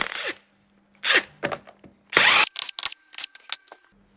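A power tool takes the wheel nuts off a Ford Fiesta in several loud, short whirring bursts separated by pauses, heard close up with no talking.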